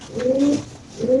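Pigeons at a pigeon farm give low, rolling coos in two close bursts, the second starting after a short pause, fairly near and clear with no talk over them.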